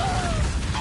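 A spell cast in the Hogwarts Legacy video game: a short, loud whooshing burst with a low thump and a rising whistle-like tone, lasting under a second.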